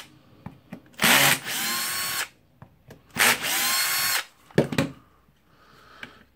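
A power driver removes screws from a Milwaukee M18 cordless drill that has a faulty gear, producing two loud, sustained whirring bursts about a second long, followed by several short, quick spins and clicks close by.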